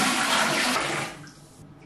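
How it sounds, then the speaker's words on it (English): Avocado skin and pit dye liquid is poured back into a pot on a kitchen stove while dyeing wool yarn. A loud, rushing splash of liquid lasts about a second, then quickly fades to quiet. "I'm going to take the dye liquid and pour it back into the pot."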